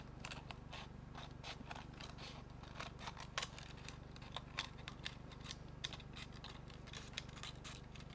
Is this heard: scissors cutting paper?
yes